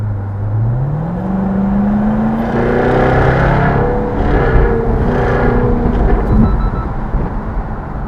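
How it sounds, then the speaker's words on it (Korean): A Jaguar F-Type sports car accelerates hard in traffic, its loud exhaust rising in pitch with a deep rumbling roar, followed by a few crackling pops as the throttle lifts, heard from inside the car with no talk. "이 정도의 배기음 그리고 팝콘을 즐길 수 있다"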